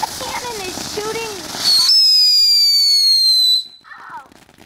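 A firework cannon fires, giving a loud, piercing whistle that holds and slowly falls in pitch for about two seconds before cutting off. Voices talk and shout nearby just before it and faintly after it.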